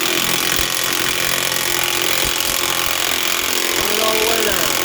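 A half-inch impact gun tightens the lock nut on a tie rod end of a JLG or Caterpillar telehandler, a steady loud rattling hammer that runs without a break over the whole stretch, with workshop noise behind it.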